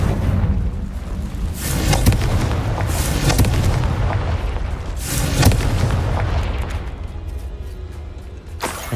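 Confringo fire spells burst in Hogwarts Legacy combat, loud booming explosions arriving in heavy waves around the start, middle and end over a dense rumbling bed of battle noise.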